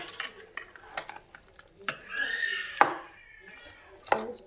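Spoon scraping and clinking against a bowl while chaat ingredients are mixed, a few sharp metallic knocks among softer stirring rustles, close and moderately loud, with no talking.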